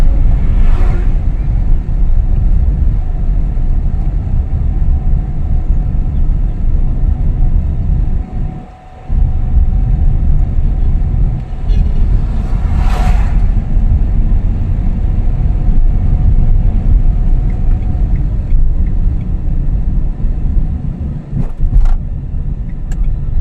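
A car drives over a speed breaker, shifted into second gear and accelerating. A loud, steady engine and road rumble holds throughout, with one brief dip partway through before the drone picks back up.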